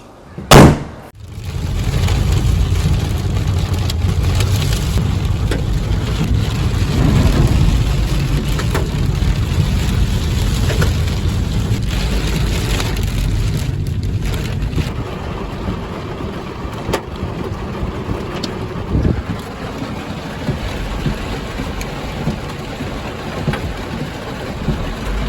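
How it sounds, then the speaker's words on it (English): Hail pelts a car on a road trip as a dense, loud, continuous drumming roar on the body and roof, easing slightly toward the end after a sharp knock at the start. "Oh man, that's some hail."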